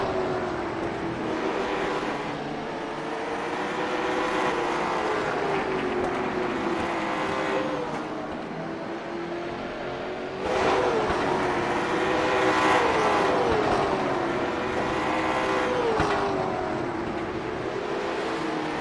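Stock cars race at South Boston Speedway late in the race, with loud engine roar rising and falling as cars pass near, pitch sweeping up and down, and a second surge of noise midway.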